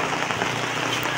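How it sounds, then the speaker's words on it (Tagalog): Heavy rain pouring down during a typhoon near a hut, a loud, dense, unbroken roar of drops drumming on surfaces, close and steady for the whole moment with no voices. "So ayan o, lakas ng ulan o."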